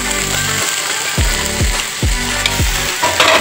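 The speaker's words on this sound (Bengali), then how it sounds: "কড়াইশুঁটি আমি এখানে তুলে রেখেছিলাম, আজকে এখন দিয়ে দিচ্ছি এখানে।" Green peas tipped into a hot frying pan with potatoes and spices, giving a steady loud sizzle with several sharp scraping clatters of a utensil against the pan, no voices.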